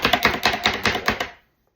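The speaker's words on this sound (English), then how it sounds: "so I wanted to go ahead and use the food chopper" Broccoli chopped with a Pampered Chef food chopper, a rapid run of about ten close, sharp rhythmic thwacks of spinning blades striking the cutting board, then an abrupt stop into silence.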